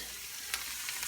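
Ginger pieces frying in hot olive oil for a stir-fry: a faint, steady sizzle with a few soft crackling pops scattered through it.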